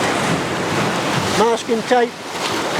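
Ocean waves wash steadily onto the shore in a constant broadband roar, with gusty wind buffeting the microphone; someone speaks briefly over the surf partway through.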